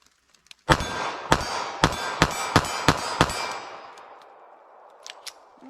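.380 ACP pocket pistol firing American Eagle FMJ rounds in a rapid string of seven sharp, loud shots with metallic ringing target hits, followed by fading echo and a couple of faint distant pings.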